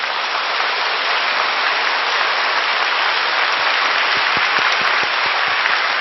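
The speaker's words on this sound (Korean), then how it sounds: "우리 하나님께 감사의 박수 올려 돌리십시오." Steady, dense applause from a large church congregation during a sermon, loud and continuous throughout with no pauses.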